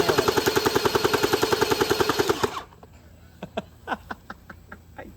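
X-Shot Glow Hyper gel blaster fires a rapid, steady burst of about twenty loud mechanical shots, then stops, followed by a few scattered softer clicks and taps.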